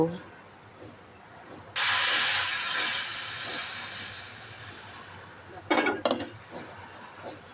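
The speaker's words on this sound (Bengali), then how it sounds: "পেঁয়াজটা ভাজা হয়ে গেলে এবার ডালে বাগার দিয়ে দেব" Hot oil with fried onion tempering poured into cooked black gram dal with prawns, bursting into a sudden loud hiss that slowly fades, followed by a couple of clatters near the end.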